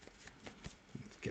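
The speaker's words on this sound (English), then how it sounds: "Let's give this a couple more shuffles here." Tarot cards being shuffled by hand, a series of soft quick riffling bursts, close and quiet, alone.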